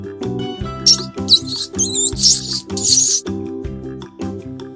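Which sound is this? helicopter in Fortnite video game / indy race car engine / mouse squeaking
mouse squeaking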